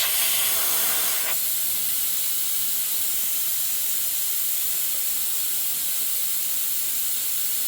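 Tire deflators screwed onto tire valves let air out, dropping pressure to about 28 pounds, in a loud, steady, close hiss that runs continuously with no talk.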